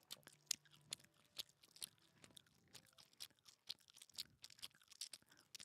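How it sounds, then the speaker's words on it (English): A person chewing crunchy food right against the microphone, loud close crunches and bites repeating irregularly throughout. "You chewing right in the mic"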